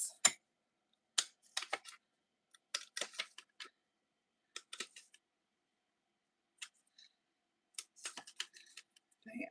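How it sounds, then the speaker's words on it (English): Scissors snip out paper pieces for card making, giving sharp, close, quiet clicks and short snipping bursts separated by silent gaps. "I will need to pop these out. I'm just going to use my scissors."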